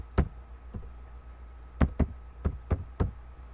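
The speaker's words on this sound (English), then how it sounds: "You might be hearing me slamming the keys, but eh, what can you do with a laptop?" Laptop keyboard keys struck hard, sharp separate knocks, one or two at a time and then a quicker cluster of several, loud and close, with no talking.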